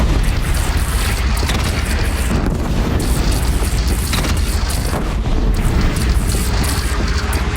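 Heavy booms from a cannon in Horizon Zero Dawn sound over a loud, dense battle din, with several impacts scattered through a steady rumble and no clear talk.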